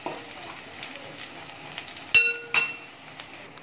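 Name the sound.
stirring chili powder into fish eggs fry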